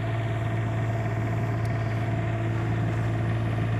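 An 8,000-watt Cummins Onan RV generator drones steadily nearby with a constant low hum and even engine rumble, unchanging throughout, with no voices.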